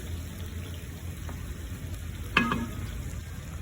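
Paella caldo being stirred one last time in a pan, a quiet low simmer and bubbling with a single sharp scrape of the spoon partway through.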